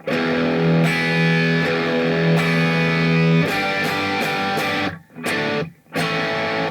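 Distorted electric guitar chugs rock power chords in a heavy metal style, a sustained crunchy chord giving way to another with repeated strummed hits and brief muted gaps near the end, loud and close.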